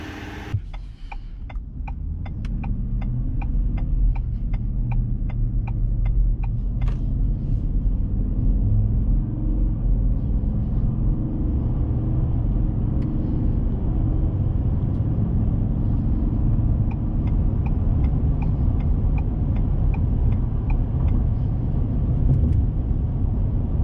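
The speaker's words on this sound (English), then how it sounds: "Flooring it, guys, so it's a brand new truck" A 2021 Ford F-150 pickup's 5.0 V8 engine runs with a deep, steady rumble, rising in intensity and holding loud and close, after a short series of clicking beeps at the start.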